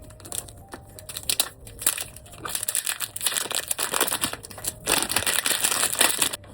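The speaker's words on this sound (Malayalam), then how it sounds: "സോ നമുക്ക് ഇതും കൂടെ ഒന്ന് അൺബോക്സ് ചെയ്യാം." A perfume package being unboxed, with wrapping crinkling and crumpling in close, irregular bursts that get busier and louder toward the end; no voices.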